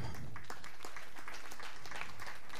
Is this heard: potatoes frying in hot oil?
no